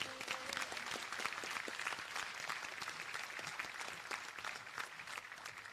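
A graduation ceremony audience applauds the graduates of a business studies academy, steady dense clapping from a large crowd heard from a distance, fairly faint and sustained throughout.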